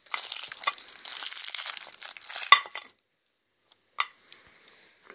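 A crinkly wrapper on a Golden Lily cream candy from Ukraine is pulled open up close, with a loud continuous rustle and crackle for about three seconds, then a few faint rustles in near silence.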